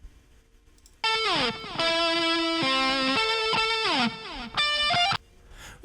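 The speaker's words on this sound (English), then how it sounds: "Make sure we've got enough reverb here." A distorted electric guitar plays a sustained lead line with bends and slides, notes ringing out and trailing off in a reverberant wash between phrases.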